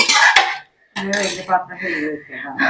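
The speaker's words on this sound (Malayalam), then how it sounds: "ഇത് ഒരു പാത്രത്തിലേക്ക് മാറ്റി വെക്കാം കുഞ്ഞി പാത്രത്തിലേക്ക്" A few bright metallic clinks and scrapes as fried dry fish is tipped into a small metal dish, with a short pause between clatters.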